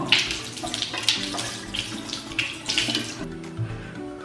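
A bathroom tap runs at night while cold water is splashed on the face. The stream is close and steady, broken by brief splashes and hand movements, with no talking.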